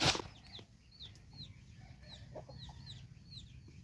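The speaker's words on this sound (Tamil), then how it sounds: "அப்புறம் அப்படியே வந்தீங்கன்னா நம்ம கோழிலாம் இருக்கும் பாருங்கள்" Chickens cluck and chirp repeatedly nearby, starting with a quick burst of wing flapping, over a quiet farmyard background.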